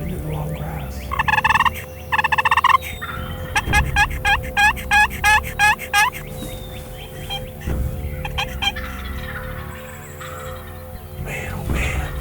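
A big wild turkey tom gobbling in spring woods, several rapid rattling gobble bursts from other birds too, some close and loud, others softer and farther off, with no talk.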